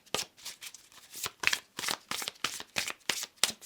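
Tarot cards being shuffled by hand, a quick series of crisp riffling bursts repeating about twice a second, close and fairly loud, with no speech.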